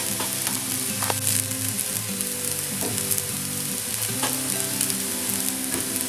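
Vegetable fried rice sizzling in a hot pan, with dense crackling and repeated stirring scrapes and tosses of the spatula, close up and with no talking.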